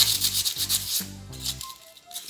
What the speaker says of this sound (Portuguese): Peguei uma lixa fina